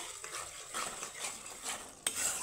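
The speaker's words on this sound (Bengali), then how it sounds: "আর ওই খুন্তি সাহায্যে নাড়িয়ে যেতে হবে যাতে নিচে না লেগে যায়" A spatula stirs a thick spice masala with cashews in a pan, soft scraping and light sizzling at close range, quiet overall with one sharper clink of metal near the end.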